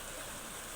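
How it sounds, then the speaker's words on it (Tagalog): A river flows near Montalban, Rizal, as a steady, even wash of rushing water that fills the short moment at low volume. "Parang dagat, oh. Ito yung ilog."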